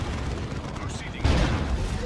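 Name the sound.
gunfire in video game Dawn of War 2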